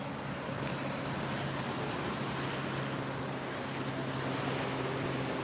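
Ocean surf rolling onto Carmel Beach, California, a constant broad wash of breaking waves mixed with wind buffeting the microphone, steady and fairly distant.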